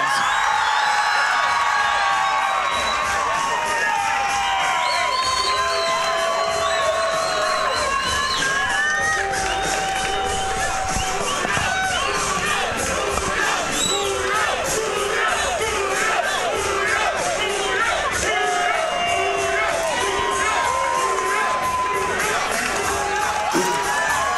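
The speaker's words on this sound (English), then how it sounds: "Big cheers from the crowd tonight for 26-year-old Julio Lopez" Loud crowd at a University of MMA fight night roars, shouts and whoops continuously as 26-year-old fighter Julio Lopez makes his way to the cage, a dense sustained wall of cheering with scattered yells.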